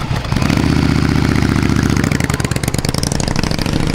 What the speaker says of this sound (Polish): Tutaj w Kanadzie zauważam dużo takich motorów enduro.